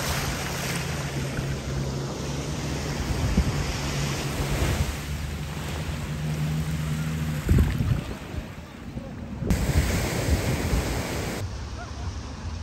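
Ocean waves wash in at Eagle Beach, Aruba, a broad, continuous surf roar mixed with wind buffeting the microphone, with faint voices in the background.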